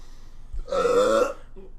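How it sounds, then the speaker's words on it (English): A long, loud, croaking burp that lasts about half a second. It comes up close during a gaming podcast, with low room noise before and after it. "Is that a burp?"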